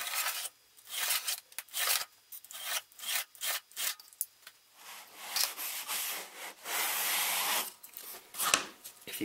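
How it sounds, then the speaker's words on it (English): Sandpaper wrapped on a stick rubbed along the cut edge of a wood board, giving rough, close scratchy strokes in an uneven back-and-forth rhythm with short pauses between passes. "You give it the old sandpaper on a stick routine, it's just as nice as a cut made on the table saw."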